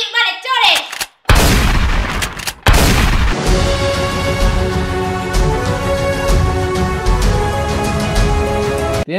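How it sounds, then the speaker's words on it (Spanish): Rapid bursts of toy shotgun prop fire crack loudly at the start, followed by a long stretch of loud, busy sound with voices mixed in. "A ver cómo disparas, Loreneto."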